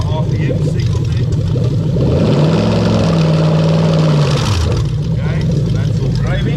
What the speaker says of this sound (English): There you go, the engine fires up, ECU's taking care of that.